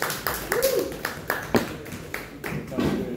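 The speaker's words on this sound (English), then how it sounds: "Let me get a round of applause" A small audience at a Crypto Monday meetup in San Juan gives thin, scattered applause, a handful of separate hand claps rather than a full ovation, fairly near and with some faint chatter.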